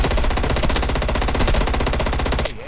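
Rapid automatic gunfire from the Black Ops 6 video game, a dense, loud, continuous burst of shots lasting over two seconds before cutting off abruptly, with no talking.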